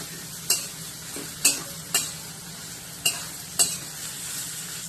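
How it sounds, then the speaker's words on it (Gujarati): Onion, carrot and capsicum sauté in a pan with a steady low sizzle, broken by several sharp scraping stirs of a utensil against the pan, no voices. "ડુંગળી અને ગાજર, કેપ્સિકમ અને ડુંગળી સંતળાઈ ગયા છે"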